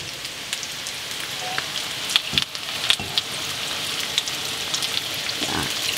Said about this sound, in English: so I'm going to add more water. I am adding the water as needed.